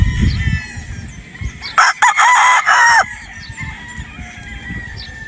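A bullet gold gamefowl stag crows once, loud and close, a strained call of about a second, with clucking and low background noise from other fowl before and after.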